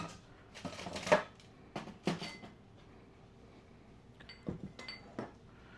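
Thick batter being scooped into a cupcake pan lined with tulip liners, heard as scattered scrapes and clinks of a utensil against metal and paper, a few louder knocks between quieter gaps, no talking.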